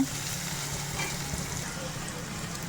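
Onions frying in a little oil for a jowar flour khara bath, a steady close hiss and crackle of sizzling with no talk.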